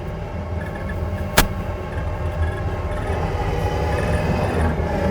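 Heavy machine fitted with a Wicked Tree Puller attachment working to pull a double-headed tree out of the ground, a steady loud engine drone with a single sharp crack early on, no talk.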